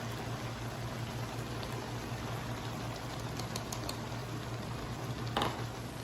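Vegetable mixture sautéing in a pan for a chicken dish, a faint, steady, hissing sizzle that runs evenly throughout with a brief clink near the end.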